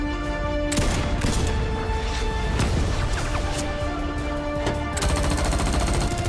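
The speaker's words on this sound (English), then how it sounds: "Opening fire." Rapid gunfire rattles continuously through a battle scene in animated Genshin Impact footage, dense bursts of shots and crashes layered over music throughout.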